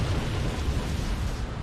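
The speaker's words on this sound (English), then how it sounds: "that's a cool explosion effect" Exploding mines in the Star Trek Armada 3 space strategy game produce a brief, dense, rumbling blast with heavy low-end roar that fills the whole moment evenly.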